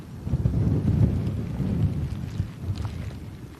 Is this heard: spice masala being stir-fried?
no